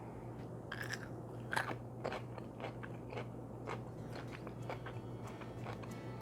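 Close, crisp crunching and chewing as an old-fashioned nine-day pickle is bitten into, with scattered crackly bites over a quiet room hum.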